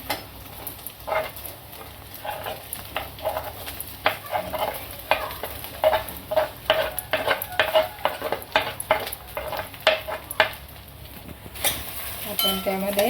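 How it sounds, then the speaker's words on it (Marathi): Potatoes stir-fried in a pan without turmeric or cumin for a fasting-day vada, with rhythmic spatula scrapes and clinks over a steady close sizzle. "हा बटाटा आपण चांगला परतून घेऊ"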